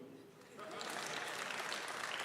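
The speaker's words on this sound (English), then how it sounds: "Otherwise, you can also clap for me." After a brief murmur, an audience at a savings cooperative's annual general meeting breaks into sustained clapping that holds steady to the end.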